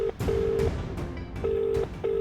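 Telephone being dialed for a call in a Hindi TV police drama scene: a short run of steady electronic tones, each held briefly and broken by short gaps, fairly loud with a faint background underneath and no talking.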